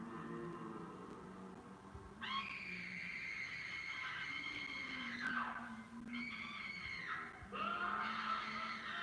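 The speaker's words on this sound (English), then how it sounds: "You can hear the screaming." Screams from the horror film The House on Haunted Hill rise in several long, high, wailing bursts of a few seconds each over a steady background of room noise, with no talk over them.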